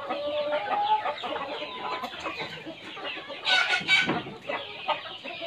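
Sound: chickens clucking on a farm

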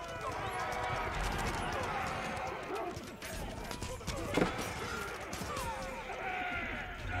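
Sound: horses galloping in Age of Empires IV video game

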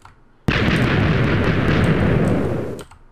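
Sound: Minecraft hybrid sand stacker cannon firing, video game

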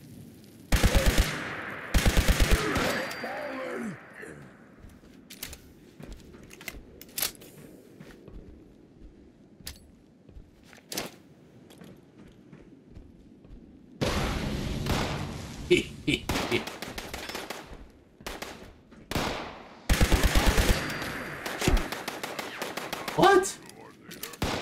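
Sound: gunfire in the video game Fallout 76

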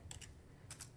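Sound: typing on a keyboard while playing a video game

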